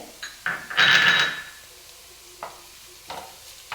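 Garlic and ginger paste hits hot oil for a beef fry, a loud burst of sizzle that fades quickly, followed by a few lighter stirring scrapes and small sputters in the pan.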